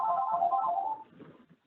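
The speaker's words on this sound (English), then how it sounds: "somebody's got their microphone on and a telephone ringing" An electronic telephone ringtone warbles through an online meeting, a short, moderately faint melodic ring that fades out after about a second.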